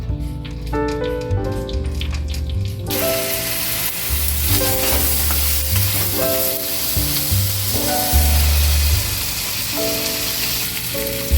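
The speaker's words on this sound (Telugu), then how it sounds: "బాగా వేయించుకోవాలన్నమాట. హై ఫ్లేమ్లో పెడుతున్నా." Paneer butter masala ingredients including garlic frying on high flame, a loud dense sizzle and crackle heard up close, overlaid with steady low tonal hum.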